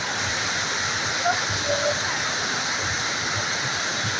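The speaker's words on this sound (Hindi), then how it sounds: "ये है जी समंदर कथा आबशार" Waterfall beside a road near Galiyat, a continuous broadband rush of falling water, steady and fairly loud, with a person speaking faintly beneath the roar.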